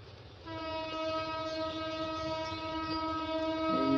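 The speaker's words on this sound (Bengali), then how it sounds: "এই ট্রেনটা এখনো যাচ্ছে" A local train crosses the big curve of the Kewatkhali bridge in Mymensingh, its horn sounding as a long, steady, multi-toned blast over a low rumble, moderately loud and carrying from a distance, with no voices.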